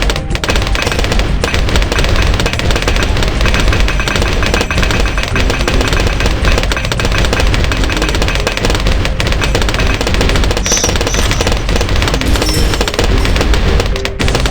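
Triple cannon towers firing in the tower-defense game Bloons TD Battles, a dense, continuous barrage of rapid booming shots and impacts at steady loudness for the whole stretch, with no talking.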